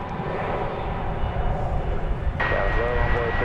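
A Cathay Pacific Cargo jet at DFW Airport gives off a steady, broad engine roar that holds evenly throughout, with a faint whine rising partway in.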